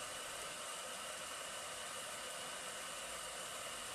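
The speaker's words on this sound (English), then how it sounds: "The printer does its own calibration before beginning each print." A MOD-t 3D printer calibrating its print bed gives off a faint, steady broadband whir that holds constant and alone for the whole stretch.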